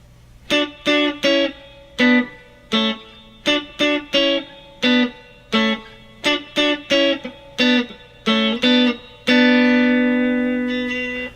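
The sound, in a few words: guitar double stops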